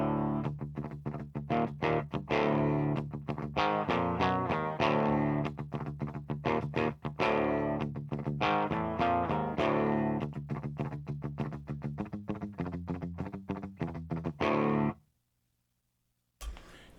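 An electric guitar plays on a clean setting through a Rev G20 amp, with chords and single notes rung out steadily for about fifteen seconds before the sound cuts off, close and alone.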